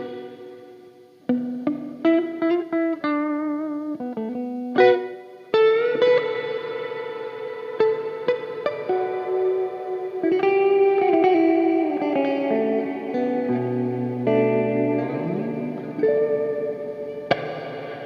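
A Dreadbox Darkness synthesizer plays a series of notes and sustained chords through its reverb with the spread turned down, giving a short roomy ambience; tones ring and overlap continuously, with a final gliding bass line near the end.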